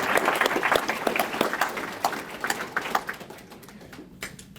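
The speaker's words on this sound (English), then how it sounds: "Let's give them a round of applause anyway." Rodeo spectators at a hall of fame event give a brief round of applause, crisp individual claps loud at first and quickly thinning to scattered, fading hand claps.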